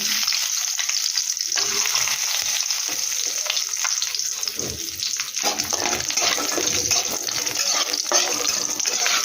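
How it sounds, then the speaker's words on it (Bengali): Lentil dumplings (bori) fry in hot oil, giving a steady, loud, dense sizzle that continues without a break and with no voices. "এখন আমি একটার মধ্যে গরম তেলটা আছে, এটার মধ্যে আমি বড়ি ভাজা করে নেব"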